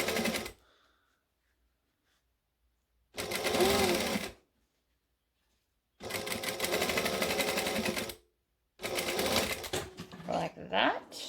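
A sewing machine stitching a pocket runs in three separate bursts of rapid mechanical whirring, each lasting one to two seconds, with silent pauses between them and faint sounds of fabric handling at the end.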